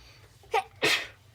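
A single sneeze, a short sharp intake followed by a loud explosive burst, close by in an otherwise quiet room.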